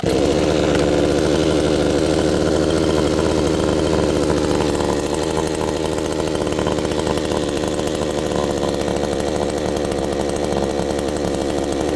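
A Vevor 62cc two-stroke chainsaw idles loud and close while warming up, its rough, steady buzzing putter holding unbroken from start to finish.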